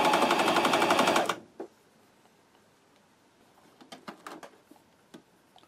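A Janome Cover Pro 2 coverstitch machine runs in a rapid, loud mechanical stitching rattle for just over a second, then stops, leaving faint scattered clicks and small handling taps.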